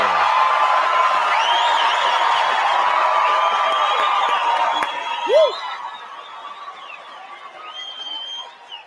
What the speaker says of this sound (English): you guys are clapping and you're laughing because you know